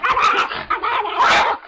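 In footage of an attack on a woman, a dog lets out loud, rough snarls and yipping barks in rapid clusters, with a brief gap and then a fierce final burst.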